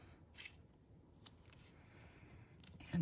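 Purple scissors snip through paper while making a pinwheel card, a few faint, close cutting sounds over a quiet background.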